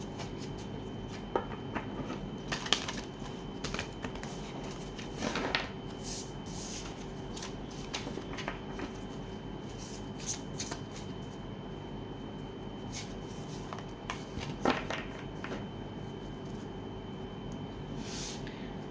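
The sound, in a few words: shuffling tarot cards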